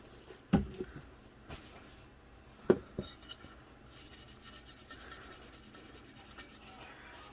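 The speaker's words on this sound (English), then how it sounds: "I'm going to come back in with some alcohol and just clean a little bit back over that spot." Soft rubbing and scrubbing as alcohol is wiped over painted glitter and mica work, with two sharper knocks early on and quiet intermittent friction strokes after, close and faint.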